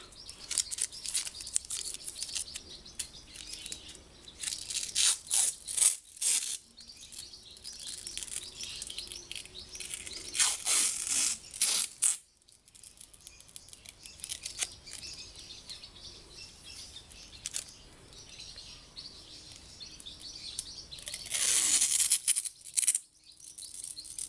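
Adhesive electrical tape pulled and wound around a 12V 100Ah lithium iron phosphate (LiFePO4) battery pack, bursts of crackly tearing and sticky rasping in several stretches with pauses between, fairly close and alone without talk.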